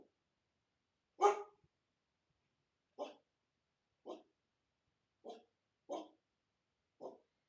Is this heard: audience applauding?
no